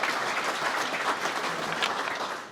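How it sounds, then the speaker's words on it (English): Audience at a chamber of commerce breakfast meeting applauding, a steady dense wash of clapping from many hands that holds throughout and tapers slightly at the end. "So a round of applause for our friends at Vape Nexus."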